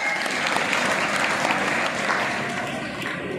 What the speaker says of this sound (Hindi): जोरदार तालियों से इस सभागार में उनका स्वागत करें।